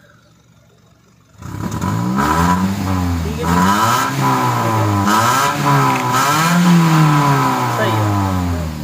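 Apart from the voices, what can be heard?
Toyota Corolla GLI 2017 engine revving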